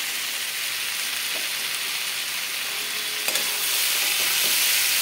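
Vegetables cooking in a pan as fried eggplant is added, with a continuous loud, close sizzle and hiss that grows slightly fuller midway, plus a brief clatter, and no talking.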